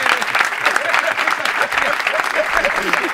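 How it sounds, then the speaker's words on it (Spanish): A studio audience applauds David Broncano in a dense, loud, steady burst of clapping with some crowd voices mixed in. "Con todos ustedes, un aplauso para David Broncano."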